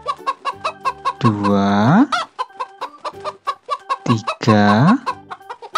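Chickens in a garden cluck in quick bursts, with two long drawn-out squawks standing out among the steady pecking rhythm, loud and close while a voice counts along.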